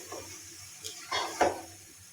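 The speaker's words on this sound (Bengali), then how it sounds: "এখন আমি ধুয়ে রাখা মিষ্টি কুমড়াগুলো দিয়ে দেবো এখন আমি ভালোভাবে নেড়ে দেবো" Pumpkin curry with chana dal stirred in a cooking pot: a few soft scrapes and clinks of a spoon against the metal, close and quiet, with a faint sizzle underneath.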